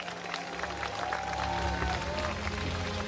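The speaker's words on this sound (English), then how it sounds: "Let's give them a round of applause, ladies and gentlemen." Audience applause at a BMX racing world championship medal ceremony, a steady sustained wash of clapping from the crowd with a low hum underneath and faint voices mixed in.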